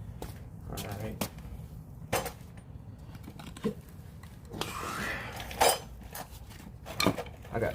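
Metal hand tools such as wrenches and sockets clink and clatter while being rummaged through during work on a 2006 Nissan Titan's front differential, with sharp scattered knocks over a low background hum.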